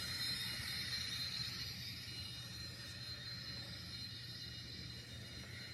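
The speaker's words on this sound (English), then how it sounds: "And like I said, it's a smooth running train." An N scale Rapido model train in an early Amtrak paint scheme runs smoothly on its track, giving a soft, steady whirring hum that holds evenly throughout with no talking.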